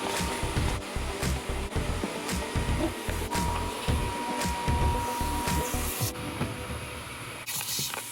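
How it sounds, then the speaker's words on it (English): Vacuum cleaner working over the driver's side carpet of a car during interior detailing, a steady loud broadband whoosh with rhythmic bumps and clatter as the nozzle moves and picks up loose debris, close up and continuous with no talking. "So I'm gonna vacuum this whole area and again blow it out."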